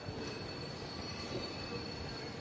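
A train rolling along railway tracks with its wheels squealing, a steady metallic screech held over continuous rumbling rail noise, close and fairly loud with no talk.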